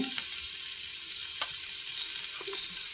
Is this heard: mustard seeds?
yes